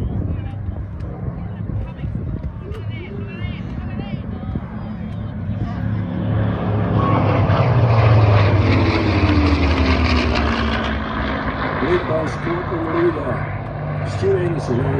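A Spitfire warbird's piston engine roars during a display pass at an airshow, swelling loud and steady as it nears and then fading, while an announcer talks over it.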